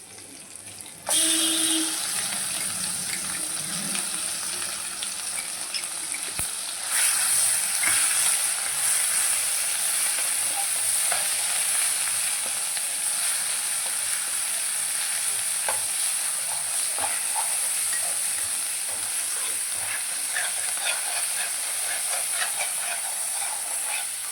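Spinach paste with turmeric fries in oil while being stirred, a continuous loud hissing sizzle that runs steadily after a brief quiet start, with occasional scrapes from the stirring.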